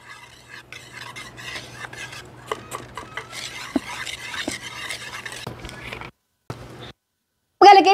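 Dry ingredients, all-purpose flour, cassava flour, white sugar and salt, being whisked together in a bowl for white kutsinta, giving a steady scraping, clinking stir up close with a low hum beneath, then brief pauses near the end.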